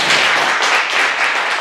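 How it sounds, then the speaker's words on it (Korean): A church congregation gives brief, dense applause, a steady wash of many hands clapping together at close range. "우리 주님께 영광의 박수 드리겠습니다."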